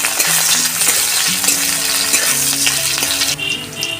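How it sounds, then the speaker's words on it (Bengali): Chopped onions frying in mustard oil in a wok, a dense continuous sizzle with scattered clinks and scrapes of stirring, close and loud, no talk. "কেটে রাখা পেঁয়াজ কুচিগুলো আমি দিয়ে দিই তেলের মধ্যে।"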